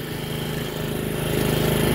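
A Toro 53 SP self-propelled lawn mower runs steadily up close, its small engine making a continuous rough, pulsing drone that grows slightly louder over two seconds, with no voices.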